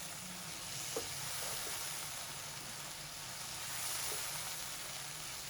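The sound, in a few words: spices being stirred and mixed in a pan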